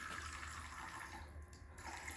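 Water runs steadily from a tap during a young girl's hair-detangling routine, a continuous close splashing hiss with no talking.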